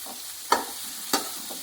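Chopped onion fries in hot oil in a home kitchen pan, a steady soft sizzle broken by two brief stirring scrapes, close and alone.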